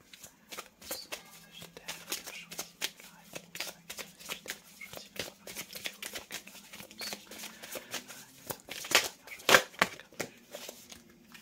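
Tarot cards are shuffled by hand in soft papery riffles and rapid fluttering bursts, close-up and fairly quiet, with a louder flurry near the end.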